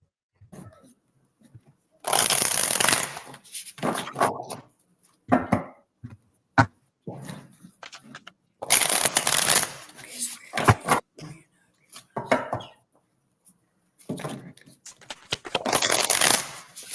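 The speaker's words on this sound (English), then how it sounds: "All that shuffling." Playing cards shuffled in repeated bursts of crisp riffling and clacking, loud and close, with pauses between rounds and soft talk in the gaps.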